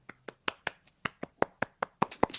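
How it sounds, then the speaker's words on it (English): Roughly a dozen sharp, evenly spaced hand claps, close and crisp, speeding slightly into a brief flurry at the end, with no talking. "can we just get a round of applause for Marc?"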